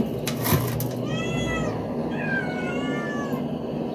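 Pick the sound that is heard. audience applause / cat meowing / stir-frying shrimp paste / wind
cat meowing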